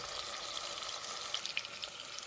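Quiet, steady sizzling of onions frying in a pan, with small pops and crackles scattered through the hiss.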